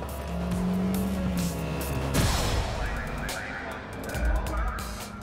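Audi TT sports car accelerating hard on a test drive, a loud engine roar and tire noise that swell and hold close by, with a brief rising whine and sharp bursts of squeal.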